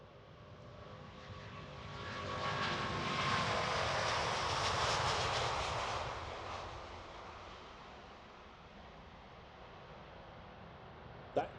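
An Airbus A350 XWB jet with Rolls-Royce Trent engines roars through its takeoff run at an air show, a broad rumble swelling to a peak and then fading as it departs into the distance.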